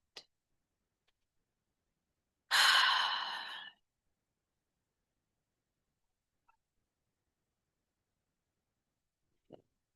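During a quiet guided meditation, a single slow, breathy exhale of about a second stands out against near-silence, with only a couple of faint tiny clicks around it.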